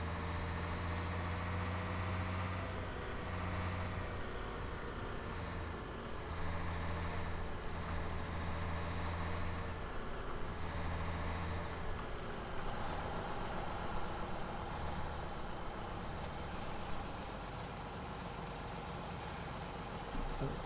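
A tractor driving in Farming Simulator 17, a low steady diesel engine rumble that runs throughout with small shifts in tone, fairly quiet and without talk.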